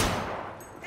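A single loud gunshot blast in the Cyberpunk 2077 video game, set in a Maelstrom gang scene, with a sharp attack that decays into a long ringing tail over the next second.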